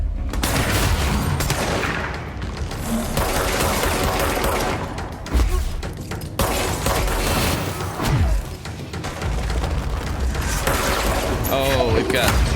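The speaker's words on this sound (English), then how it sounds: "somebody's shooting frags at me too, or grenades." Frag grenades exploding in the video game Control, heavy repeated blasts and crashing bursts amid dense combat noise, with a voice talking intermittently throughout.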